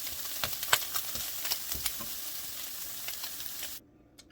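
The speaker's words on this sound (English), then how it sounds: "But I'm just going to let my vegetables cook." Vegetables frying over moderate heat in a pan for an omelet, giving a close, steady sizzle with scattered pops and crackles before cutting off abruptly.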